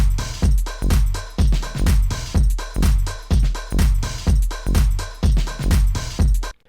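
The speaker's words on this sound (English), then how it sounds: "So that's the new extended intro." Extended 16-bar DJ edit intro with only drums and bass: a heavy kick and bass pulse thumping in a steady four-on-the-floor groove, loud and driving throughout.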